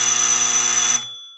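A harsh electronic game-show buzzer blares once, steady and loud for about a second, then cuts off with a brief fading ring.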